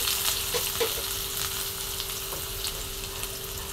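Chopped onion fries in hot oil with cumin in a kadhai, giving a steady, close sizzle with faint stirring taps.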